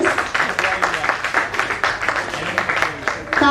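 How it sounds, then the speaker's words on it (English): An audience at an international yoga e-conclave claps for its faculty members, a steady patter of applause running through the stretch beneath a speaking voice. "Please keep on clapping for your all faculty members."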